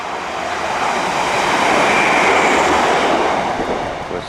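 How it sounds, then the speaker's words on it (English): A Cleethorpes to Sheffield passenger train passes close by, a loud, steady rushing roar that swells and holds for several seconds before easing slightly. "Cleethorpes to Sheffield train."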